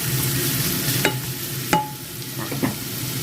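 Spring roll filling of mixed vegetables and minced pork with glass noodles being stir-fried in a pan, a steady low sizzle with a few sharp scrapes and clinks of the spatula against the pan, no voices.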